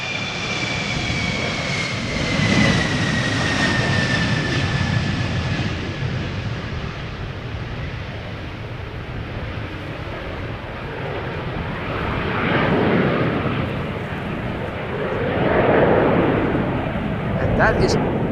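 An Embraer 170 jet takes off from Schiphol's Polderbaan runway, a loud sustained engine roar with a whining tone, swelling and easing in waves as it climbs away, heard from nearby.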